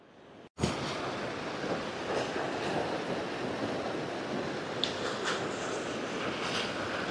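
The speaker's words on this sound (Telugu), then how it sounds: "చూసారు కదా వాటర్ ఎలా పారుతుందో." Water flows at Srisailam in a broad, steady rushing roar that cuts in after a sharp start, loud and continuous, with some wind buffeting on the microphone.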